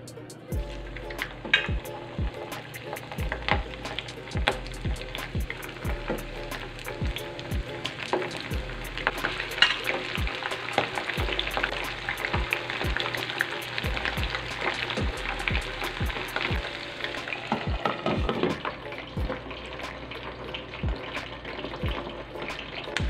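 Cornstarch-coated chicken feet frying in a hot pan, a loud, continuous crackling sizzle with dense popping spatters throughout, close and steady with no talking.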